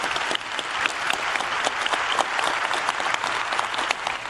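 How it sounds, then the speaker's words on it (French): Loud, dense applause from an audience at a political debate, a continuous wash of many people clapping at once, sustained evenly from start to finish. "J'en déduis que c'est le dernier applaudissement qu'on entend."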